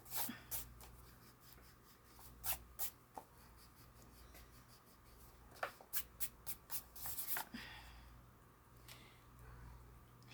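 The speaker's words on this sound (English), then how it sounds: "I'm going to just erase what I drew and go for it." A pencil drawing is rubbed out with an eraser: quiet, close scrubbing strokes arrive in short irregular bursts, with a quick cluster of rapid rubs midway and softer scuffs near the end.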